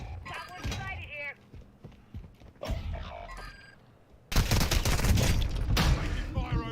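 Gunfire from a shooter video game erupts in a dense, loud burst of rapid shots after earlier quieter game sounds and talk, sustained for the last couple of seconds.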